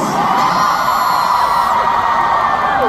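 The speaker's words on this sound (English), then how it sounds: "So shall we try to scream for the MC? Make some noise!" A fan concert audience in Manila screams, whoops and cheers continuously and loudly, a dense wall of crowd noise with no pauses.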